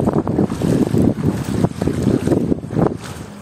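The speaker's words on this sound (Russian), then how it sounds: "Только какая-нибудь машина проезжает, все, волной зачерпывает воду в сапоги." A car pushing through deep floodwater in a flooded village street in Krasnodar region, throwing up a wave; continuous sloshing, surging water rush with low rumble, close and loud, with wind buffeting the microphone.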